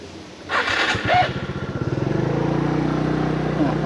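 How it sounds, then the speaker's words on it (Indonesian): Motorcycles at a motorcycle parking area, one engine clattering at idle nearby and then settling into a steady putter, with people talking in the background. "Nah, parkiran motor."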